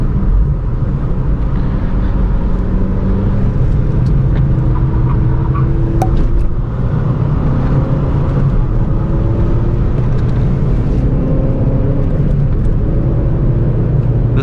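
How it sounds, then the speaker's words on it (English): Constant loud road roar inside a 9th gen Honda Civic Si at speed, a broad low rumble with tire hum that holds steady throughout, no voices. "that road noise is so bad. It's really loud in here"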